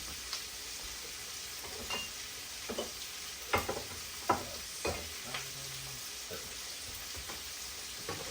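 Meat sears in a hot pan for an Italian bucatini dish, a constant crackling sizzle punctuated by scattered scraping stirs and clinks, close up and with no talking.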